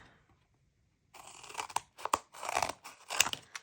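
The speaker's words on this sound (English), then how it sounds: "I'm just going to cut that off" Scissors snip through paper craft material with a run of crisp, close crunching cuts after about a second of silence, each snip sharp and distinct.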